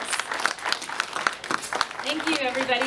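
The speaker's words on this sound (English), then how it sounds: "Lewis Olson, let's give him a big round of applause" Audience applause after a hot glass blowing demonstration at the Corning Museum of Glass, a dense patter of many hands clapping at close range with voices cheering and talking over it.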